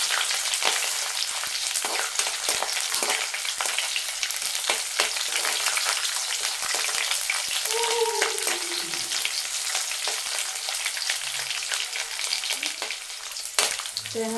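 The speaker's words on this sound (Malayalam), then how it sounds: "ഒരു ബ്രൗൺ കളറാകുമ്പോൾ ചെറിയുള്ളി ഇട്ട് കൊടുക്കാം." Shallots frying in hot oil with curry leaves and coconut pieces, a steady close crackling sizzle with occasional stirring clinks.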